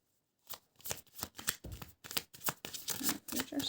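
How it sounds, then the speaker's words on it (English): Large tarot cards being shuffled by hand, a close series of crisp riffling and slapping bursts starting after a short silence and running irregularly to the end. "it's hard for me to shuffle these ones easily"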